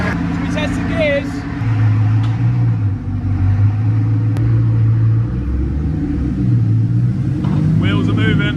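A Bugatti Chiron raised on a lift while its gearbox is run through the gears, giving a steady low engine drone with stepped shifts in pitch, loud and close under continuous talking.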